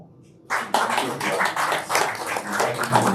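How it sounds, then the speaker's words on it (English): An indoor audience at a talk breaks into applause, a burst of clapping that starts abruptly and carries on steadily, moderately loud and close. "So, round of applause for all."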